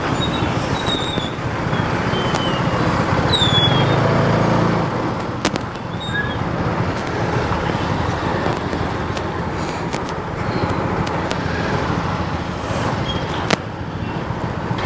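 Road traffic during heavy rain, a continuous wash of passing vehicle noise and rain hiss, with a faint horn-like tone and a few sharp clicks mixed in.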